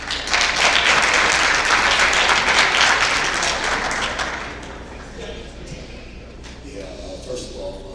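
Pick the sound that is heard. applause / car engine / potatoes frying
applause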